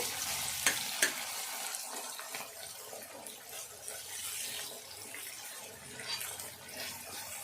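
Tomatoes frying in a hot tempering for Telugu tomato charu, a steady close sizzle running the whole time, with a couple of sharp clinks near the start and no talking.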